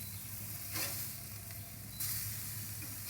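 Cheeseburger patties, three-quarter pound, sizzling on a Masterbuilt 560 Gravity Series charcoal grill just after flipping; a steady close hiss and crackle with a couple of brief louder spatters.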